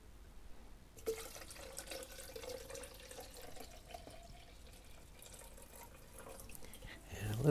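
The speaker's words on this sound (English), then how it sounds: "then top it up with plain tap water" Plain tap water runs into a mixing jug while a developer solution is made up, a steady faint trickle with drips, rising to a louder splash near the end.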